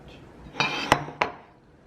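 Oriental-style ceramic bowls and dishes are handled in a home kitchen, giving three sharp clinks and knocks spaced about a third of a second apart, close and crisp with brief ringing decay.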